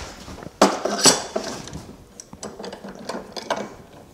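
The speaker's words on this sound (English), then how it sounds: "I'm just gonna put a clamp on my board right here" A clamp is fitted onto a wooden board, giving sharp metallic ratcheting clicks and clinks in a few loud bursts followed by quieter scattered taps and rattles, close by with no talk.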